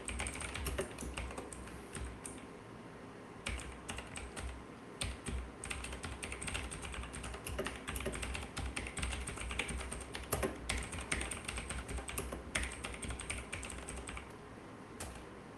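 Steady typing on a computer keyboard, quick irregular key clicks running throughout, close and moderately quiet, with no voices.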